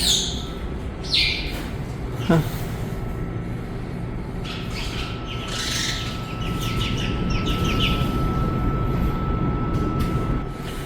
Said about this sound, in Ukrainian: а тут пташки позалітали і так собі тут вечірку зробив